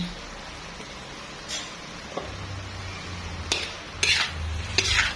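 A pork mixture is stirred as it fries in a pan, its quiet simmer broken by several sharp utensil scrapes that grow busier toward the end.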